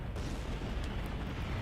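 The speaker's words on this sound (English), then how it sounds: "Not just one, but a series of booming bursts going on and on." Continuous booming bursts of explosions from the Code: Realize game, a dense unbroken rumble with no clear gaps, loud and steady throughout.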